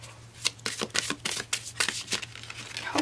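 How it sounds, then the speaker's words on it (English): A deck of affirmation cards is shuffled by hand, close and crisp, with a rapid series of riffling snaps and soft flicks that repeat unevenly over a few seconds. "let's go ahead and shuffle the deck for you."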